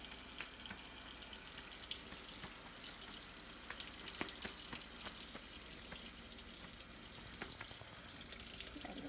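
Water runs steadily from a sink tap during handwashing, a continuous close splashing stream with faint scattered clicks and no talking throughout.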